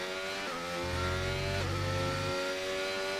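A Williams race car in gulf livery on a flying qualifying lap in a racing video game, its engine droning loud and close with steady high harmonics and a brief rise in pitch as revs shift.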